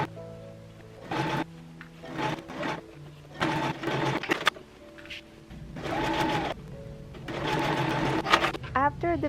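Bursts of a sewing machine stitching dress fabric for a strapless dress, several runs of rapid mechanical whirring separated by short pauses, close and fairly loud, with a voice speaking at moments.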